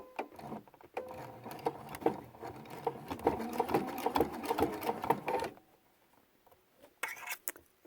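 A sewing machine runs in quick rhythmic bursts of rapid mechanical stitching, close and clear, while it sews decorative stitches on quilt binding, then stops into near silence with a few faint handling clicks after.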